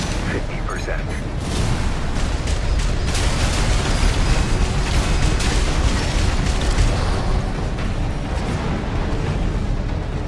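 Heavy explosions go off on the ground in the mech combat game Armored Core 6, a dense, continuous barrage of deep booms and blasts with little pause between them.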